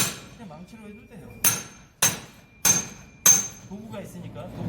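A hammer breaks a concrete masonry block on a GTX construction site: four sharp, loud strikes about half a second to a second apart, with a person talking in between.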